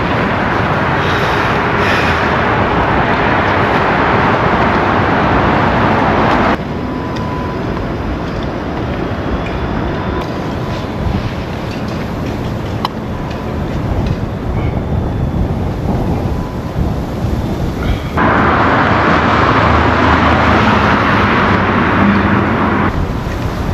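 Strong wind buffets the microphone in heavy, continuous gusts, a loud roaring rumble that eases in the middle and rises again toward the end.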